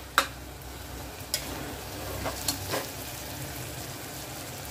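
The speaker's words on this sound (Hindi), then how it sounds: "थोड़ी देर के लिए पकने देंगे टमाटर को।" Tomatoes cook in a pan with string beans for barbati sabzi, giving a faint, steady low sizzle broken by a few sharp clicks of a spoon against the pan.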